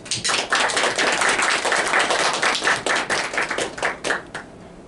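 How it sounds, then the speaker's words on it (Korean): Dense, enthusiastic clapping from an audience welcoming a speaker to a corporate gas turbine presentation, sustained for several seconds before thinning out toward the end. "우리 박수로 맞아주시기 바랍니다"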